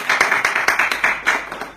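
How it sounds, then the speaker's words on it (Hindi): Quick rhythmic handclaps from a small audience, about a dozen sharp slaps in under two seconds, close and loud with no talking. "इनके लिए ताली बजा सकते हैं हम लोग।"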